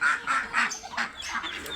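Repeated nasal duck quacks in short bursts, several calls overlapping at moderate loudness with no talking.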